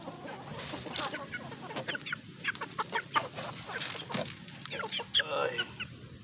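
Roosters cluck and squawk in a busy farmyard, with short bursts of crowing and clucking repeating close by over a steady background din.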